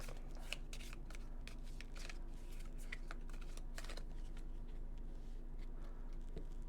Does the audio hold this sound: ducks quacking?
no